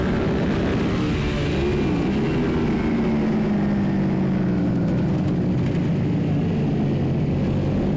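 A Suzuki SV650 racing motorcycle in a minitwins race at Mallory Park drones loudly and steadily as it enters a corner, its engine note sweeping and rising throughout, heard up close from the rider's own bike.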